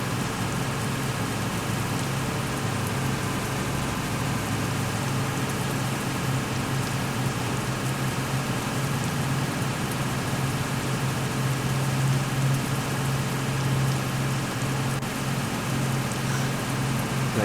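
Steady rain in a truck-driving video game set in Seattle, a constant hiss of falling drops over a low engine drone that holds evenly throughout with no talking.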